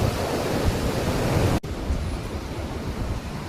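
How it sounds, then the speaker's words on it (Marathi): Loud rushing water pours near a dam bridge, a dense, constant roar close by, filling the air without pause or voices. "पाण्याचा किती भारी आवाज येत होता"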